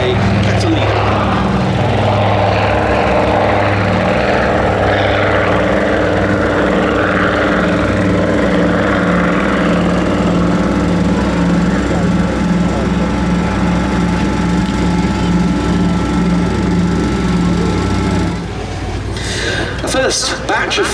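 Consolidated PBY-5A Catalina flying boat running in from the right at a Duxford airshow, its twin piston engines giving a loud, steady droning roar that holds throughout and eases off near the end.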